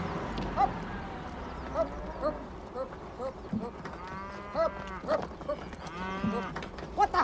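Several cows moo repeatedly, some near and some farther off, amid general farmyard bustle and occasional hoof clatter.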